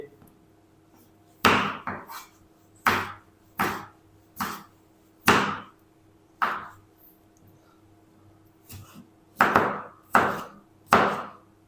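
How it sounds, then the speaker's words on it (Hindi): About five medium red tomatoes being cut into chunks on a board for a beef karela curry: roughly a dozen crisp, close knife strokes land in irregular bursts and pairs, with short quiet gaps between them and no talking. "अब मैंने ये मीडियम साइज़ के तकरीबन 5 लाल टमाटर ले लिए हैं, तो इनकी भी हम कटिंग कर लेंगे।"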